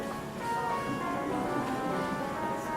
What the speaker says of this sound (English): this is the sound of the microbial community as it's changing over time